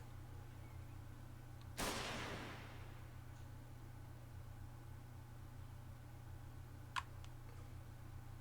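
A single sharp gunshot from a police officer in The Silver Case cracks out loud and close over a steady low hum, with a faint tick a few seconds later.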